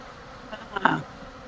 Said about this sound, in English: I got bees chasing me.